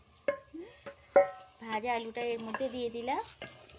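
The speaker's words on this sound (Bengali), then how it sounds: "দিয়ে কষানো চলছে, সুন্দর করে কষানো হচ্ছে" Fried potatoes are stirred and sautéed in a pan: two sharp scraping knocks of the spoon over a soft sizzle, then someone talks over the quiet frying.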